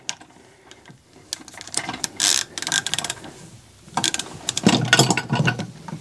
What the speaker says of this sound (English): Throw a gear wrench on there and see.